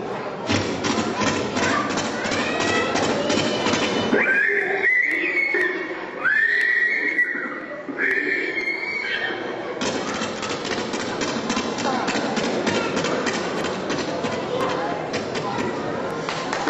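A performer vocally imitates a horse running and neighing in a desert scene, mixing rhythmic thudding hoofbeat sounds with high whinnying calls in the middle, loud and close, with spoken Tamil around it.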